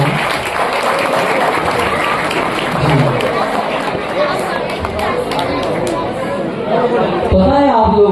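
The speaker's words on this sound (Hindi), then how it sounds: "जोरदार तालियां हो रही हैं।" An audience at a Hindi poetry gathering applauds the departing chief guest: loud, sustained clapping mixed with crowd chatter and voices throughout.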